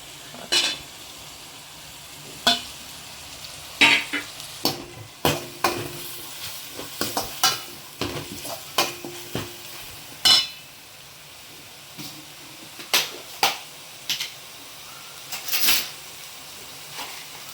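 Small shallots sauté in oil in a pan for a fish curry, with a constant gentle sizzle broken by frequent sharp scrapes and taps of a spatula as they are stirred.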